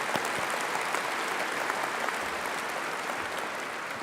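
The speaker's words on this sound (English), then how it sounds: "Let's give a round of applause." A large crowd at a University of Kentucky commencement ceremony applauds new graduates, sustained, dense clapping echoing through a big hall with individual claps popping out of the wash.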